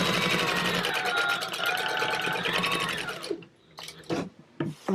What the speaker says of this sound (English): We're going to go ahead and just kind of base stitch this in place.